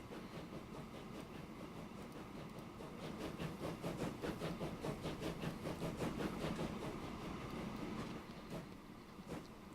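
A video game train rolls steadily along the track with a rhythmic clickety-clack of wheels over rail joints, continuous and moderately loud, no voices.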